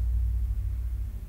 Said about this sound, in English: So I'm going to wait for that truck to go past